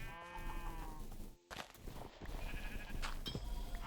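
Sheep in the Minecraft video game bleat a few times, clear and close, over a steady bed of game sound.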